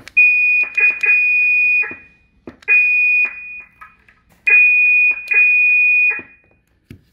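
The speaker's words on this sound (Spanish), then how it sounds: "el clásico Roger Beep de 2950" Loud CB radio roger beep tone bursts from an RCI 2950 radio repeat in short sequences, a steady high pitch followed by chirpy warbling beeps, separated by brief quiet gaps.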